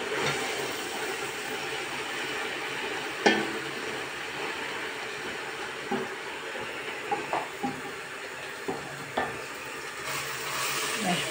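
Spinach sautéing in a pan, a steady soft sizzle and hiss with occasional sharp clicks and scrapes of stirring scattered through, close and moderately quiet.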